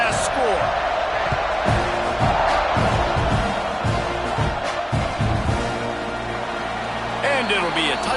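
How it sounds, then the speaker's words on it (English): A college football stadium crowd at an Alabama versus Texas A&M game buzzes and roars continuously before a kickoff. The dense, loud murmur sits beneath steady play-by-play commentary. "this crowd is buzzing after that last score"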